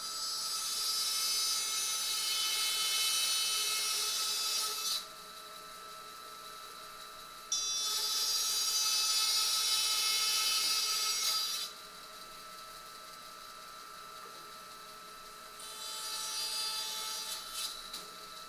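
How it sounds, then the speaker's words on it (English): A bandsaw cuts the cheeks of a wooden tenon, with the workpiece standing vertically in a jig. Two long, loud, steady bursts of high, hissing cutting are separated by the motor's lower idle whine, followed by a shorter, quieter third cut. "I'm going to do it on the bandsaw."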